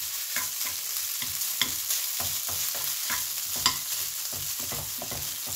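Garlic fried rice with pork sausage is stir-fried, a steady crackling sizzle punctuated by quick rhythmic spatula scrapes and taps as clumps of rice are pressed apart, close and clear with no talking.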